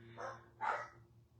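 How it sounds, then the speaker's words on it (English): Dogs bark indoors during a live craft session making a Mayday basket from napkins: two short, fairly quiet barks half a second apart, then quiet. "Excuse the dogs."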